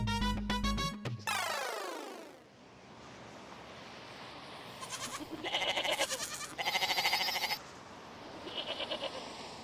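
A sacrificial goat brought home for Qurbani gives a few quavering, pulsing bleats, fairly close, after a short burst of music.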